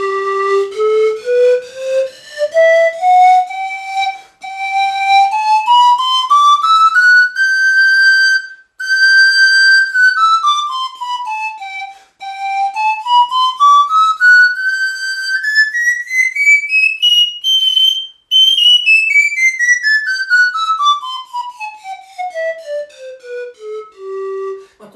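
A three-octave pan flute in G with normal tubes plays a smooth run of breathy, pure whistle-like notes, climbing and descending the scale repeatedly, loud and close with no voices.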